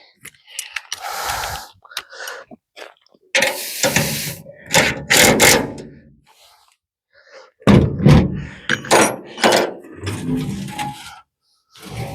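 A ratchet tightens hardware on a pickup truck tailgate in several loud, close bursts of rapid clicking, separated by short silences.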